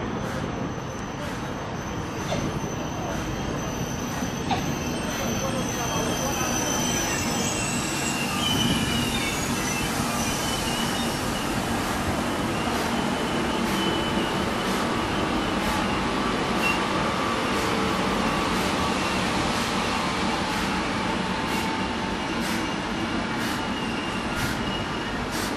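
An ETR 460 Eurostar train at Roma Termini station gives a steady, loud rumble of rolling stock with thin wheel squeal running over it for the whole stretch.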